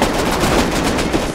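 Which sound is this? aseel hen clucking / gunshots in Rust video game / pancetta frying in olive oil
gunshots in Rust video game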